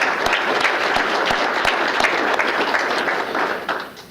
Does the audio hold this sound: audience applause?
yes